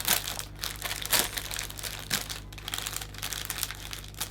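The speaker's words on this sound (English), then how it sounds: "now I'm going to work around the edge of the cellophane, and I'm just going to gently tease the cellophane" Cellophane wrapped around a Christmas hand-tied flower bouquet crinkles and rustles continuously as it is gently folded and taped at the edges, with sharp crackles scattered throughout.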